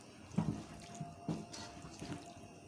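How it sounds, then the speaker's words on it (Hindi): Water splashes in short, faint pours and drips into a cooking pot of mixed vegetables, a few separate gurgling bursts without speech. "तकरीबन 1 गिलास पानी डालूँगी मैं"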